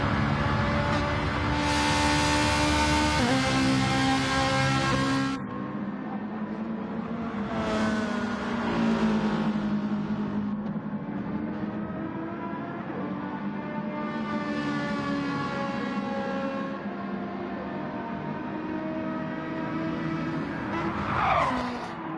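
A Playmobil-liveried Ferrari 458 race car in a racing video game at the Brazil circuit, engine revving loudly and continuously through gear changes with tyre squeal through the Senna S's, unbroken and close.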